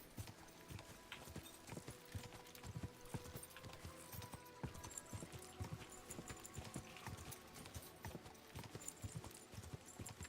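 Horse hooves clip-clop steadily in a medieval role-playing video game, a faint, even trotting rhythm that continues throughout with soft ambient game sound beneath.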